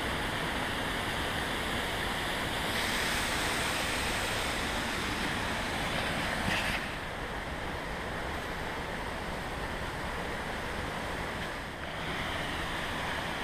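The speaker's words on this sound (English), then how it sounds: "Fairly big waterfall." Third Vault Falls, a fairly big waterfall among cliffs in Fundy National Park in winter, gives a constant broadband roar with some wind buffeting on the microphone and no talk.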